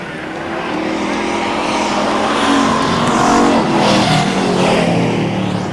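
Race cars roar around the Stockton 99 Speedway oval during a heat race, a steady loud engine drone that swells as cars pass close by, with a commentator's voice faintly underneath.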